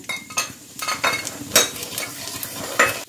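Cardamom, cinnamon, nutmeg, mace, a bay leaf and two dried chillies tempering in hot fat, a crackling sizzle with uneven bursts of stirring and light clinks of a utensil against the pan, heard close.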